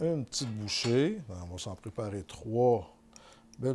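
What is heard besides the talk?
No everyday noises stand out.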